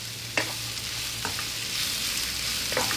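Hotdogs or beef franks sizzle softly in a pan while being stirred, a faint, even frying hiss broken by a few light scrapes and knocks.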